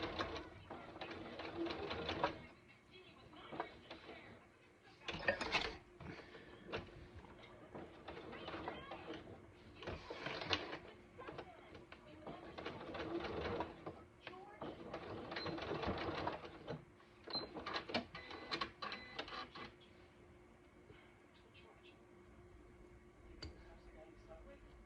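A home sewing machine back stitching backpack fabric runs in short stop-start bursts of rapid clattering, fairly quiet and close, with handling noises and some talk between runs.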